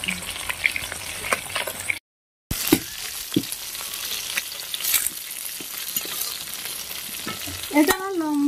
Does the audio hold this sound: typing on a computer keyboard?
no